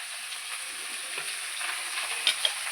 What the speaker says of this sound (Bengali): ফুলকপিটা একটু ভাজা হয়ে এসছে বন্ধুরা